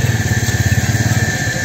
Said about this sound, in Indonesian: Awas ada motor.